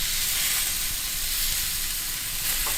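Lobster cooks with plenty of garlic butter on a grill grate, giving a loud, continuous, close-up sizzle and hiss with no break.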